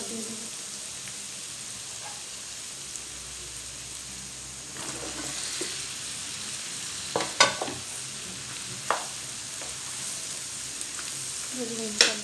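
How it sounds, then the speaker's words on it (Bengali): Fresh rooftop-garden eggplant fries in an oiled pan with a soft, steady sizzle, broken by occasional spoon scrapes and clicks that grow a little louder and more frequent toward the end. "বেগুনটা ভাজা হওয়া পর্যন্ত অপেক্ষা করব।"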